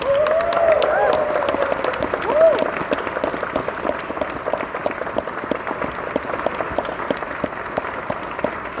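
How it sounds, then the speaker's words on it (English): A crowd at an intercollegiate band concert claps steadily in a sustained round of applause, with a few voices and cheers mixed in near the start. "Can we give her a round of applause?"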